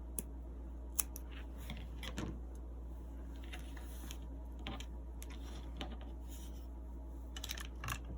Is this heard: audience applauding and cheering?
no